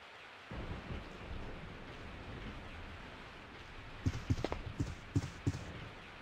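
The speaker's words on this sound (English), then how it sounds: "I woke up to the sound of falling rain." Steady rain falls in Resident Evil 3 Nemesis, with a soft wash of rainfall throughout and several sharp, close thunder cracks rumbling in a cluster near the end.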